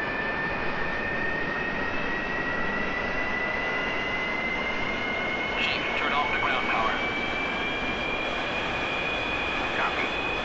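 An A-4E Skyhawk jet engine in a flight-sim game spools up from idle, a loud, steady roar with a thin whine that climbs gradually in pitch, with a voice faintly heard over it.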